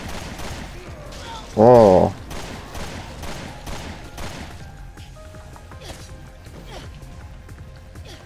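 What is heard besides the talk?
assault rifle gunfire in the video game Resident Evil Revelations 2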